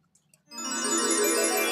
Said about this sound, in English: And I'm gonna let all y'all listen to the pour.